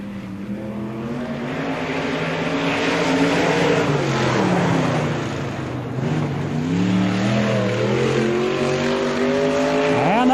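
A race car laps Spoon River Speedway at the 1996 Summer Nationals. Its engine drones loud and steady for the whole stretch, the pitch rising and falling as it works around the track.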